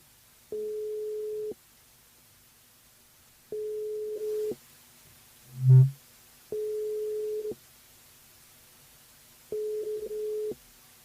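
Telephone ringing tone heard during an outgoing call, steady one-second tones repeating at regular intervals with a short soft thump between two of them, otherwise quiet.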